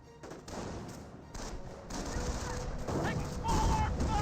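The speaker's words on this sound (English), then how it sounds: "Taking small arm fire!" Small arms fire in the World War II strategy game Company of Heroes: dense, rattling rifle and machine-gun bursts over rumbling battle ambience, continuous and fairly loud.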